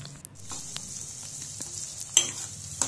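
Cut carrots and other vegetables stir-frying in a pan for vegetable fried rice: a soft, continuous sizzle with a few scraping stirs and sharp spatula clicks, close and without voices.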